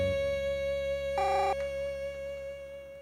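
A landline telephone rings once in a home, a short electronic ring burst standing out against a steady background tone, then fading back to the hum.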